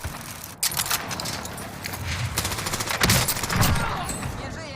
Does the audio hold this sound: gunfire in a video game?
yes